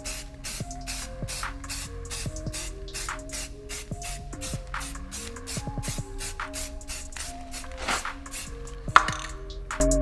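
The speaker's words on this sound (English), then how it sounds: "The first coat is a very light coat, and it is just supposed to be just a few spots, just a few sprays." Spray paint hisses from an aerosol can onto brake calipers on a Volkswagen MK1 Citi in short, close bursts, a light first coat laid down as a quick series of sprays over a faint background hum.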